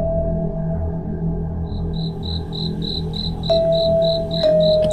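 Crickets chirping at night: a steady run of evenly spaced high pulses begins a couple of seconds in and continues over a low rumbling background and a faint sustained tone.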